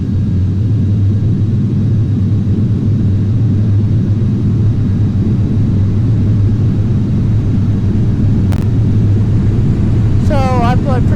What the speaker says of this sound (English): have the engine started and be on the runway and advance the power to full and have the flap set for takeoff